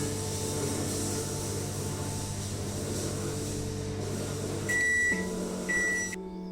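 A microwave oven hums steadily while heating a dish, a constant low drone close by, ending with several sharp electronic beeps as the cycle finishes; no one speaks.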